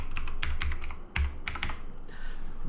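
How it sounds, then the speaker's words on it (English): A password being typed on a computer keyboard, heard as a short string of close, evenly paced key clicks over a steady low hum, then a brief pause. "Now we're gonna type in our password."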